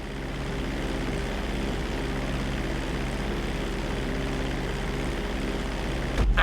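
A propeller airplane engine drones steadily in flight during a GTA V flight lesson, a loud continuous hum holding level throughout, with a brief bump at the very end.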